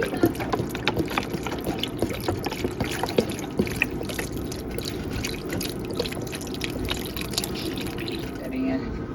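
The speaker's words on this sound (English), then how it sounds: "Add in the next thing of broth." Vegetable broth pours into a soup pot with a continuous gurgling, splashing flow and scattered drips, fairly close.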